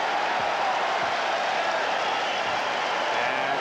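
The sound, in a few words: crowd cheering and applauding at basketball game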